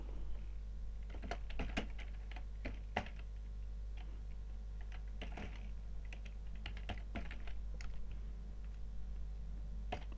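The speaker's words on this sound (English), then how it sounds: "So type the first line" Steady typing on a computer keyboard while entering a line of text in a LibreOffice Calc cell, with irregular bursts of close, crisp key clicks over a low constant hum and no talking.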